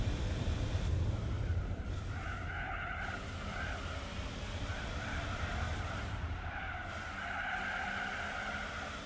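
A turbocharged race car in Gran Turismo 4 drones steadily with engine whine and tyre noise, shifting pitch as it accelerates through the race, continuous and fairly quiet.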